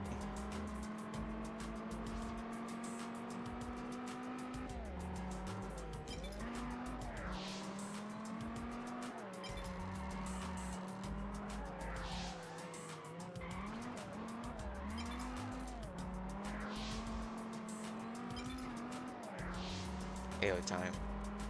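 Car drifting in the Test Drive Unlimited racing game, a steady droning engine with long wavering tire squeal rising and falling throughout, while someone talks over it.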